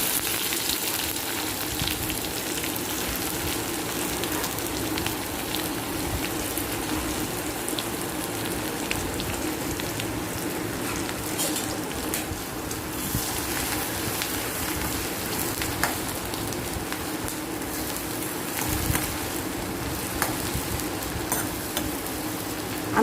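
Onions frying in coconut oil with hing in a pan for a drumstick vegetable bhaji, a continuous crackling sizzle with scattered sharper pops, steady and close throughout.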